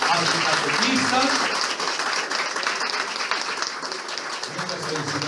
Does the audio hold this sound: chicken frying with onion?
no